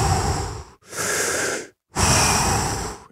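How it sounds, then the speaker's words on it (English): Deep, rapid breaths drawn in and pushed out through the mouth during an intense breathing exercise, loud and close, three long airy breaths separated by brief silent pauses. "you're just going big breath as quickly as you can and an exhale, but you're not doing a count"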